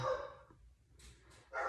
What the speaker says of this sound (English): My dogs are bound and determined to interrupt your reading